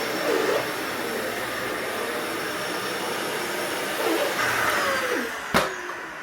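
Dyson vacuum cleaner running over carpet with a steady, loud whooshing roar and shifting suction tones, ending with a short sharp knock.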